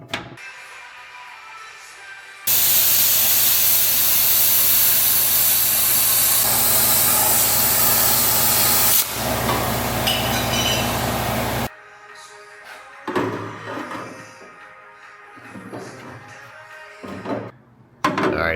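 A plasma cutter slices through the rear subframe and control arm structure of a Honda Civic EK hatchback, giving a loud, steady, close hiss for several seconds before cutting off into quieter workshop noise.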